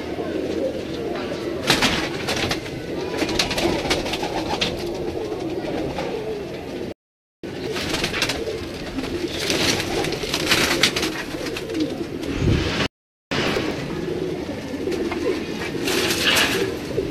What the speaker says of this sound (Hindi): ये जी इन कबूतरों के पुपार हैं।